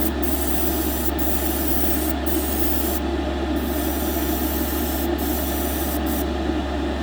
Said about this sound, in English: this is a metallic enamel, so just let you know that it sprays that out really well